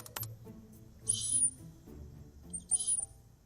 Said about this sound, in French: J'ai ici l'enregistrement d'une souris mâle qui appelle une femelle.